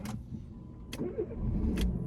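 A Renault Laguna II engine being started with a key: a faint starter whir and catch under low idle rumble, with three short bright clicks spaced evenly through the clip.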